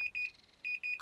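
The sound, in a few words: oven timer ringing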